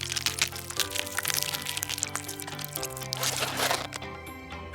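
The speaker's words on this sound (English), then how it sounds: "What will it sound like when I squish it? Let's check. Ah, it cracks and cracks" Close, crisp cracking and crunching as a toy sea animal figure is squished, a quick run of snaps with faint squishy crinkles, fairly quiet and alone.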